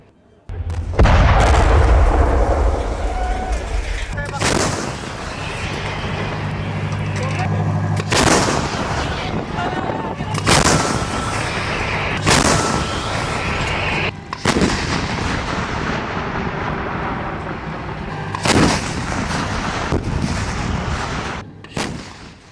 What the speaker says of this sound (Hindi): टैंकों से निकले गोले बारूदी गदर मचा रहे हैं।